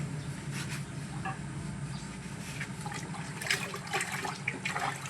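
Water pours and splashes faintly as the water for pet ducks is changed, a steady low gush with light trickles and splashes and no talk.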